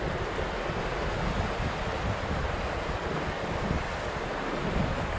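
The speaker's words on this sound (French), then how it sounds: "il y a du vent" Steady wind blowing outdoors beside a river, a continuous broadband rush with microphone buffeting, loud and unbroken throughout, no voices.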